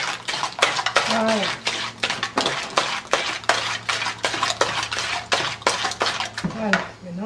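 Cake batter being stirred in a bowl for an egg cake, with a utensil scraping and clinking against the bowl in a quick, steady rhythm of sharp knocks, close and fairly loud, while someone talks over it.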